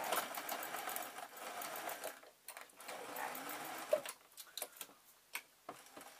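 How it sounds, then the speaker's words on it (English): A sewing machine stitches green thread through microfiber tea cloths, a fast, steady mechanical whirr that comes in bursts with short pauses and a few clicks toward the end. "I'm now just coming up to the end where I finished sewing the green stitches."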